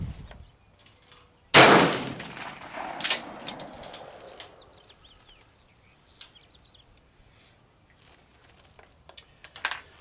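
A rifle shot from a boxer-primed cartridge cracks sharply at the range, followed by a second, weaker report and scattered clanks and metallic ticks as the shooter handles the gun; no talking.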